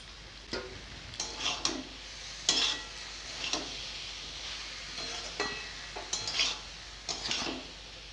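Chana dal is stirred into spinach cooking in a pan, producing faint, intermittent spoon scrapes and clinks over a quiet sizzle, with pauses between strokes.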